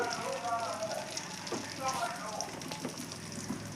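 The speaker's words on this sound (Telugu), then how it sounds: "టమాటాలు ఆయిల్లో బాగా ఫ్రై కావాలా" Tomatoes frying in oil for a Telugu chukkakura pachadi, with tamarind added, giving a soft continuous crackling sizzle up close, with faint stirring.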